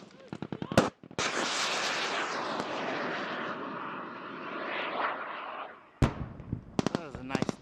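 Mortar top-down attack explosions in a military video game near a forward operating base: a dense, roaring barrage of blasts that holds for several seconds, broken by sharp cracks before and after.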